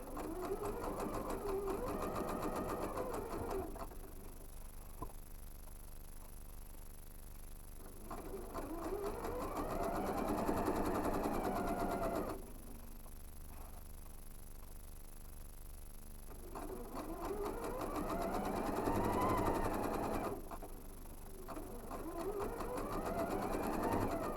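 A sewing machine stitches over a garment's side seam in three separate bursts, each a steady rapid whir ramping up and slowing down, with quiet pauses between, fairly soft and close.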